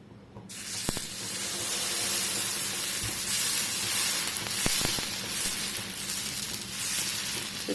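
Jowar dosa batter spread across a greased hot pan sizzles in a loud, continuous hiss, with a few brief clicks and scrapes of the spreading utensil.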